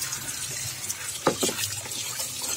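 Tap water running into a tub while turtles are washed by hand, a steady faint splashing stream with a brief louder splash midway.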